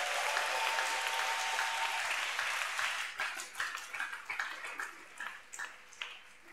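A church congregation applauds, first as a full, dense wash of clapping, then thinning after a few seconds into scattered, uneven individual claps.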